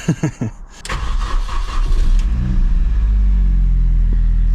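A Mini's engine cranks and catches after a few brief mechanical clicks, then settles into a loud, steady low idle rumble close by with no talking.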